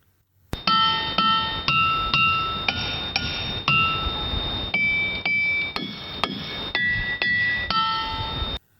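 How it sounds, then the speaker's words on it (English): A series of bright, bell-like rings from ringing rocks being struck at Upper Black Eddy, Pennsylvania, each hit sharp and metallic with a lingering tone, some overlapping, about a dozen strikes. "so ringing rocks. Let's give people an example of what it sounds like."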